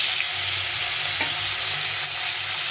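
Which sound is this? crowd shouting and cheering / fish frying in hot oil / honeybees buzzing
fish frying in hot oil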